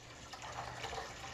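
Tap water pours into the tank of an Air Care EP9800 whole-home humidifier, a steady splashing trickle that swells slightly and stays at moderate level, with no one talking.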